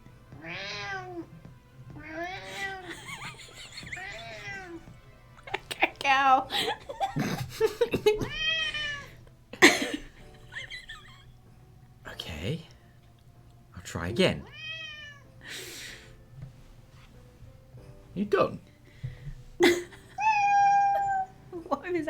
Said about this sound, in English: Here's cat noises.